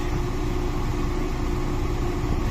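The air conditioning of a VW Golf GTI with a newly replaced condenser runs in the cabin, a loud steady whir of blower fan and low hum with no variation and no talking.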